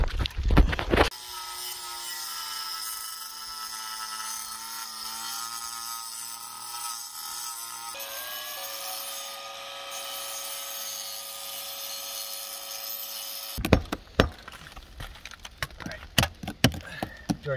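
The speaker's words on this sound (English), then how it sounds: "we're going to shave this stone down because we're in the business of vandalism" A power tool grinds down chimney stone with a steady, harsh whine for about twelve seconds, then gives way to rough, uneven scraping and knocking bursts up close.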